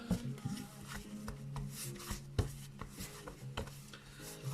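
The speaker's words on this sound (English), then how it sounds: "Just start kneading using the good old Paul Hollywood method." Hands knead rosemary and olive oil focaccia dough by the Paul Hollywood method, making soft, steady rubbing and slapping sounds with a few sharper thumps, quiet and close with no talk.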